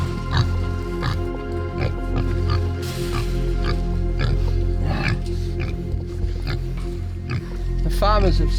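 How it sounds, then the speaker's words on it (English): Small pigs caught in a farm trap around a tank grunt and oink repeatedly, close and fairly loud, while someone speaks over them. "The farmers have set a trap here around this tank, and they've caught a number of small pigs."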